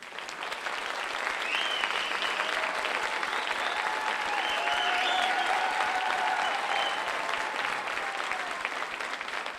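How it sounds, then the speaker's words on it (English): Audience at a New York State court officers graduation ceremony breaks into sustained applause, a dense wash of clapping that swells and holds steady for several seconds in a large hall. "they deserve a round of applause."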